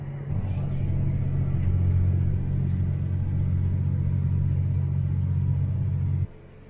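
A tractor engine runs at working RPM with front-wheel drive engaged while tilling long-untilled ground, a loud, steady low rumble with a droning hum that holds throughout before cutting off abruptly near the end.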